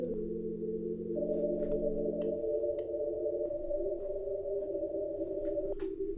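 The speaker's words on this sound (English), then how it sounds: "A noise going into a filter here." Noise from a Nambu synth on iPad fed through a resonant filter, producing steady whistling tones whose pitches step and shift over a hissy bed, with soft clicks scattered throughout.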